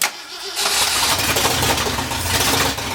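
A 1964 Ford F100 4x4 that sat unused for over 30 years cranks and catches, then settles into a loud, rough, steady idle close by.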